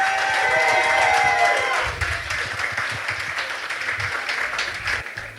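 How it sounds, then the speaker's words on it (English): An audience at a casual talk night claps and cheers, loud at first over a fading musical tone, then thinning into scattered applause. "let's give Nathan another round of applause"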